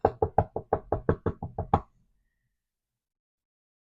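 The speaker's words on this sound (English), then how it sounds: "They tapped lightly on her door, but got no response." Light knocking on a bedroom door: about eleven quick, soft raps in an even rhythm, then silence.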